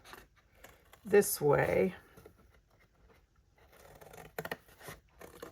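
Chipboard is cut along score lines for DIY scrapbook storage bins. A short spoken remark comes first, then a few faint, crisp cutting snips and scrapes near the end.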